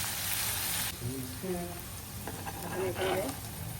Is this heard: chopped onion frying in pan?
yes